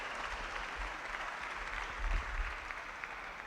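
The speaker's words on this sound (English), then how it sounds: "Please give him a round of applause." An audience at a student union conference gives steady, moderately distant applause for a presenter, a continuous wash of clapping with no voices over it.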